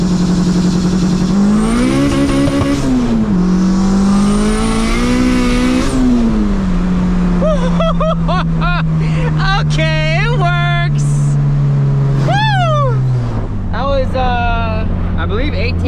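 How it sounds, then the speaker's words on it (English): A car engine on a dyno revs with rolling anti-lag set near 5,500 rpm, a loud droning hold that then drops to a lower steady note, with people talking and exclaiming close by over it. "I actually set up the, hopefully set up the rolling anti-lag correctly. So I'm gonna try it real quick"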